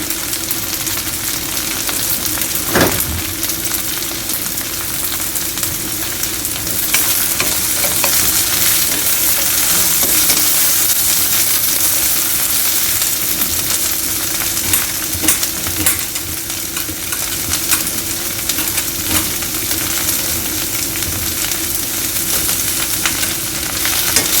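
Onions frying in a pan as the base for an okra (bhindi) dish give a steady, loud sizzle with occasional stirring scrapes throughout, and no one speaks over it.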